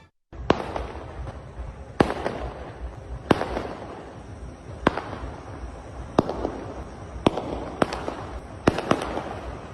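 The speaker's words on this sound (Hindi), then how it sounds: "ये पटाखे क्रिकेट में पाकिस्तान की जीत पर दिल्ली के सीमापुरी इलाके में फोड़े गए।" Firecrackers bursting one after another at irregular intervals in Delhi's Seemapuri area, celebrating a Pakistan cricket win, sharp loud cracks echoing over a noisy outdoor background, roughly a dozen pops.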